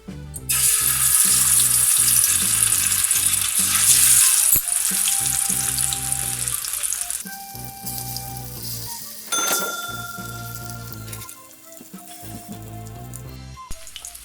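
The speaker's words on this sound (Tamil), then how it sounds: "ஆயில் ஹீட் ஆனதும் நம்ம இப்போ எடுத்து வச்சிருக்க செவரொட்டியை ஆட் பண்ணிடலாம்." Spleen (suvarotti) hits hot oil in a pan with a loud, bright sizzle that roars for several seconds, then settles into quieter crackling with occasional clinks and stirring, close up and without talk.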